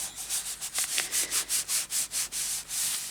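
A hand rubbing glued fabric down onto a junk journal cover, a rhythmic series of about a dozen soft swishing strokes, close and steady, with no voices.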